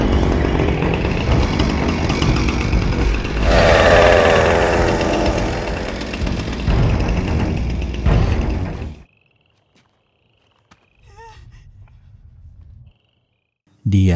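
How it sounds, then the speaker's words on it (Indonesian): A chainsaw roars loud and steady for about nine seconds during a horror film chase scene, with a harsher surge midway, then cuts out to near silence broken by a brief low rumble. "Psikopat itu masih mencoba mengejar Heather dengan mesin gergaji di tangannya."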